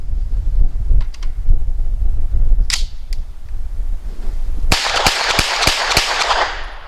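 Grand Power Stribog SP9 A3 pistol-caliber carbine firing Federal 115 grain training ammunition, a string of about six sharp, loud gunshots in quick succession outdoors, preceded by wind noise and a couple of faint distant shots.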